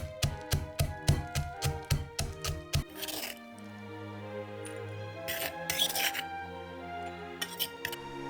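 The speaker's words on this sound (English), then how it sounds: "Crush 50 grams of roasted peanuts." Roasted peanuts crushed in a run of sharp, evenly spaced cracking strikes that come close together, then a softer stretch with a few scattered crunches and taps.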